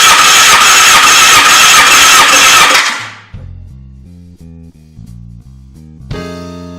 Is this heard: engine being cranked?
yes